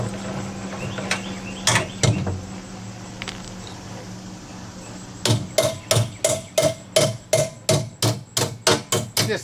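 A few scattered metallic knocks, then a rapid, regular run of sharp hammer blows on a metal wheelbarrow wheel, close and loud.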